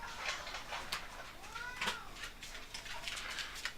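A cat meows a few times in a short burst, one rising and falling call clearly standing out in the middle among other faint animal noises in the background, with no talking.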